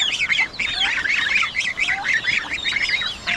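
Many ducklings peep and chirp constantly in a shrill, overlapping chorus, close by and fairly loud.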